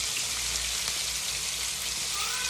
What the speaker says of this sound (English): Look at that, it's already frying fast.